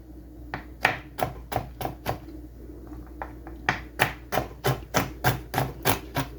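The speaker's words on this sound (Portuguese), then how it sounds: "Aqui, ó, a gente vai picar grosseiramente, ó. E agora é as nozes" Walnuts being coarsely chopped with a knife on a board: a run of sharp, evenly spaced chops, a brief pause with lighter taps, then another quick regular series, close and clear with no talking.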